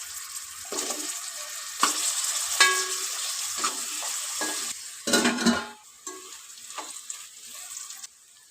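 Sun-dried mutton pieces, soaked and washed, dropped into hot oil for a curry, giving a crackling sizzle with stirring scrapes, splashes of water and bursts of louder spitting, close by.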